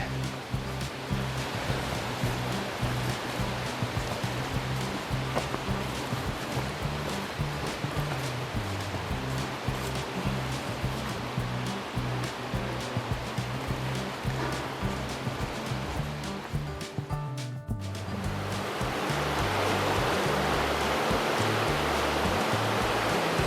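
Noland Creek rushing beside a trail in the mountains, a steady, dense wash of flowing water heard close and loud throughout, with no talk.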